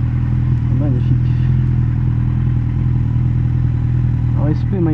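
A Jaguar F-Type sports car's engine roars loudly and close, holding a steady growl as it goes by, while someone talks over it.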